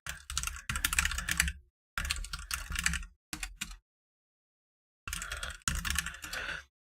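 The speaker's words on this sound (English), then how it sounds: "I'm just typing these days up to have something to do on the screen" Rapid clicking keystrokes on a computer keyboard come in several bursts of typing, close and crisp, separated by short pauses and one longer silence.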